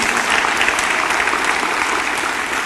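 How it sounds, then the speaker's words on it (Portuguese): A congregation claps together in a church service, dense and steady applause filling the room at fairly loud level throughout, with no voices standing out. "Vamos dar uma salva de palmas ao Senhor Jesus."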